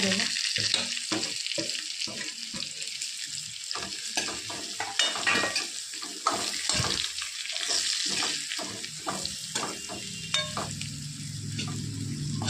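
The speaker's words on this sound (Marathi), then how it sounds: "मसाला पण भाजून निघायचं" Spice masala roasts in a pan for a brinjal curry, with steady sizzling and frequent scraping, clinking stirs against the metal, close up, and a faint voice in the background.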